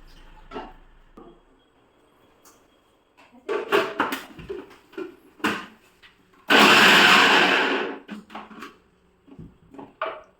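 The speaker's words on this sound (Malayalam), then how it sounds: "ഇതിൻ്റെ പ്രീതി സോഡിയാക്കിൻ്റെ മിക്സിയാണ് കേട്ടോ" A Preethi Zodiac mixer grinder runs in a loud, steady whir for about a second and a half, set among scattered kitchen clatter and knocks before and after.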